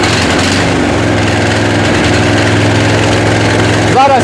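Diesel walk-behind tractor engine running at full revs, a loud, steady low chugging drone with a brief sharper knock near the end.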